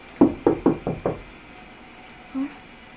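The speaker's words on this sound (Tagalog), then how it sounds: "May kumatok po guys sa pinto." Five quick knocks on a door, close and fairly loud in a steady rhythm, followed by a short faint vocal sound after a pause.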